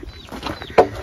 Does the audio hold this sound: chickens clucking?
yes